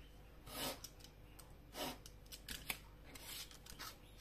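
Scissors snip through paper while a card is being made, several quiet, separate cuts at irregular intervals in a calm indoor setting.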